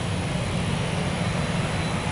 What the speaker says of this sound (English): You know what? I hear a heavy jet.